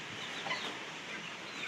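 Chickens cluck quietly at a distance, a faint low murmur of fowl over a steady background hiss, with no voices.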